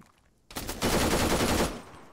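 Sustained automatic gunfire in the Arma 3 military video game, a loud close burst of rapid shots lasting over a second after brief quiet, then trailing off.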